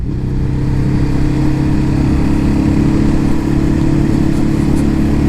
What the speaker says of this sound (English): downshifts without the clutch are an absolute breeze